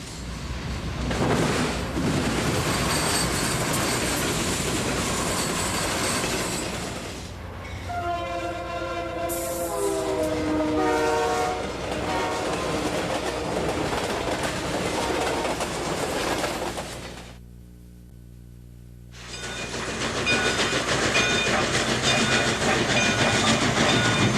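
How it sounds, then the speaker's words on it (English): Train rolling through the middle of Ashland, Virginia, with a loud sustained horn blast, then steady rumble and clatter of passing railcars; a brief lull follows before the noisy passage resumes. "trains run right through the middle of this lovely Virginia town"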